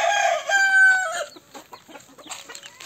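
A rooster crows once, loud and close, its long harmonic call rising and then trailing off into scattered clucking and rustling in a chicken coop.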